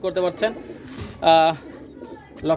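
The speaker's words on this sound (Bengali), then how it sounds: "ইন্ডিয়ান রামপুরি কবুতর" Indian Rampuri pigeons, a breeding pair, cooing close by in repeated short bursts with one longer coo in the middle, and a voice talking between the calls.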